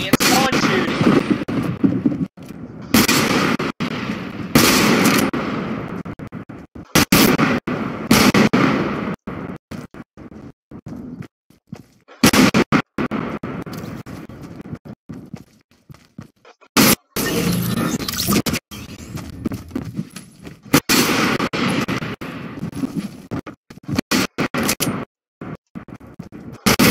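Gunfire in Fortnite Chapter 2 Season 2 Creative Mode: loud, repeated bursts of shots and rapid fire, broken by short gaps, with voices talking over the fighting throughout.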